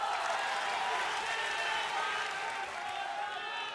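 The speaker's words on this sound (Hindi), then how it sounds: "तालियों के साथ स्वागत कीजिए।" Studio audience applause at a televised Bihar election debate show, a steady dense wash of clapping that holds at an even level for the whole stretch with no talk over it.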